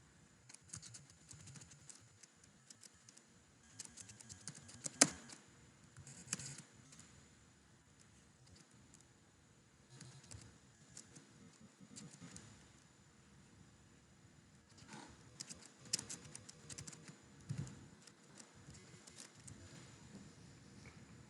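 Faint, irregular taps and clicks of someone typing code on a computer keyboard, coming in scattered bursts with quiet gaps between them.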